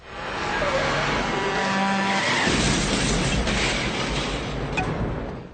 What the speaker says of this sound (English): it's a head-on collision with another truck that finally dispenses him